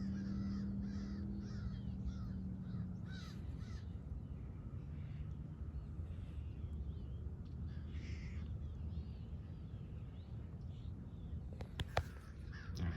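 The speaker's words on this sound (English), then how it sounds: "And I think that's a scrub jay." A Florida scrub jay calls in sand pine scrub at Lyonia Preserve in Deltona, Florida, giving a few harsh, raspy calls at moderate distance over a steady outdoor background.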